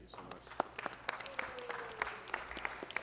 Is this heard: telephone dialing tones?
no